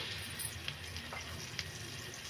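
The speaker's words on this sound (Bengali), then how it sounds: "একটু বাটার দিয়ে দিলাম, আর একটু তেলও দিব।" Butter and a little oil sizzling in a pan, a faint, steady hiss with a few tiny pops and no voices over it.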